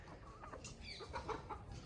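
Faint, short clucks from a few chickens nearby on a small poultry farm, soft and scattered over a low background hum.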